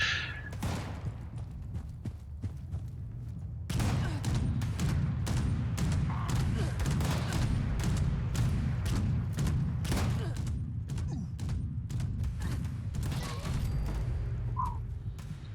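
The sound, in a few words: Gatling gun firing in the video game Fallout 76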